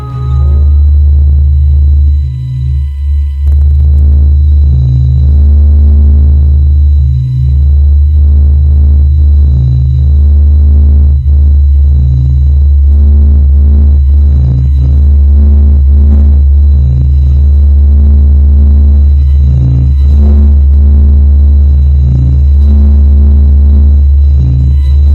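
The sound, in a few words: sonified spacecraft recording of the Sun's sounds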